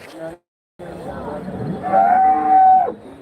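At the Karimangalam cattle market, a cow gives a loud, close, drawn-out moo lasting a couple of seconds, preceded by a brief lowing call and a short silence.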